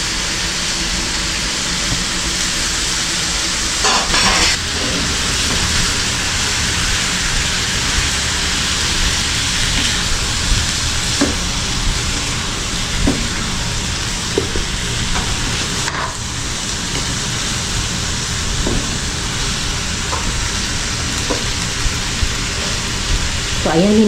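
Pork for a Tagalog menudo sizzles loudly in a hot pan with sautéed aromatics, a dense continuous frying hiss lasting throughout, punctuated by occasional clinks and stirring, with someone talking faintly underneath.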